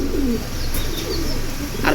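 Pigeons at a Bangladeshi seller's stall coo steadily and fairly loudly in soft repeated phrases over constant background noise, with no talking.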